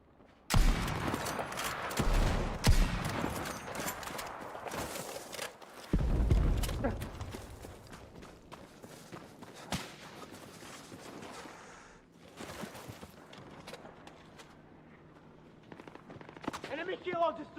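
Video game gunfire in a busy combat match, dense bursts of automatic shots with sharp single cracks and rumbling impacts, under game voice callouts and a player's voice.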